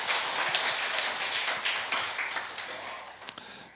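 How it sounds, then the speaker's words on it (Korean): A church congregation applauds together in a dense, fading wash of clapping that fills the room, steady at first and thinning toward the end, with no voices over it. "우리 하나님께 영광의 박수를 드리시기 바랍니다."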